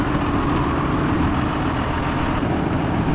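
A truck engine idles and rumbles with a heavy, low, constant drone while driving onto a drop neck trailer; close and loud, with no voices.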